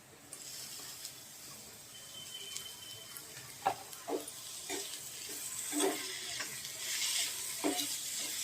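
Tomatoes drop into a frying pan with onions for a Konkani-spiced mince, setting off a soft sizzle that builds, broken by scattered clinks and scrapes of stirring.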